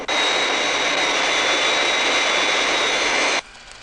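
Fireflash jet airliner from Thunderbirds on final approach to the runway, a loud, steady jet roar with a high whine that holds evenly, then cuts off abruptly near the end.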